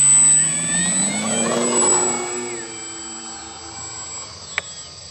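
An FMS Ranger 1800mm radio-controlled plane taking off at night, its electric motor giving a rising whine with sweeping tones that swells early and then fades as the plane climbs away.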